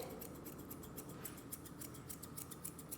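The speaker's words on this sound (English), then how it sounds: "I'm going to take a pair of thinning shears and start on one end" Thinning shears snip through the hair on the foot of a Nova Scotia Duck Tolling Retriever during grooming, a quick, regular run of small, crisp metallic clicks, close and quiet, with no talking.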